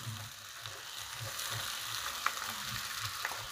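Sabudana (tapioca pearls) sizzling in a hot pan for fasting khichdi, with a steady frying crackle, soft rhythmic stirring scrapes and a couple of sharper pops, close and moderately quiet with no talk.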